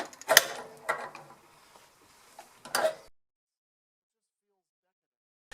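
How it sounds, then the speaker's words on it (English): A large wrench working loose a boiler pressure relief valve: a few close metallic creaks, clunks and ratcheting knocks over about three seconds, followed by near silence. "I'm going to try my bigger wrench and see if we can get it loose with this."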